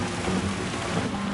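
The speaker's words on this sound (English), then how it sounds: "Proper deluge of rain." Heavy rain pours down in a GR3 sports-car racing video game, a steady, dense hiss filling the whole stretch with a low rumble beneath, loud and unbroken with no voices.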